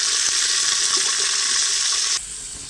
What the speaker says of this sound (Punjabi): ਘਿਓ ਗਰਮ ਹੋ ਗਿਆ ਤੇ ਹੁਣ ਨਾ ਵਿੱਚ ਅੱਲਾਹ ਤਾਲਾ ਦਾ ਨਾਮ ਲੈ ਕੇ ਪਾ ਦਿੰਨੇ ਆ ਪਿਆਜ਼